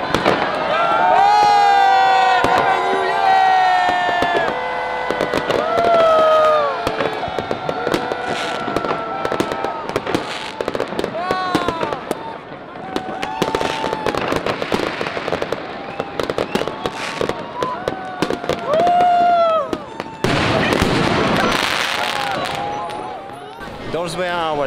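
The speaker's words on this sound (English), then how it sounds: "Instead, everyone brings their own fireworks and the show goes for hours." Crowds set off their own fireworks on New Year's Eve in Prague: sharp bangs, crackles and whistling rockets pop continuously near and far, mixed with shouting and cheering voices, with a dense burst of explosions late in the stretch.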